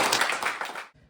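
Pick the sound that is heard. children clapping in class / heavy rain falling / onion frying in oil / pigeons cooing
children clapping in class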